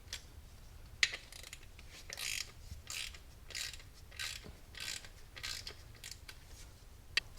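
Bolts on a 2014 Ford Focus ST clutch pressure plate being tightened down evenly, giving faint mechanical ratcheting and creaking clicks with a couple of sharp ticks, soft and close with no talk.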